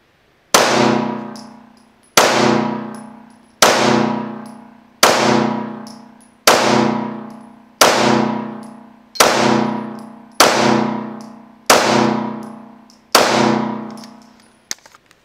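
A Springfield Echelon pistol is fired in ten evenly spaced single shots, each a sharp loud crack with a ringing decay, heard with no talk.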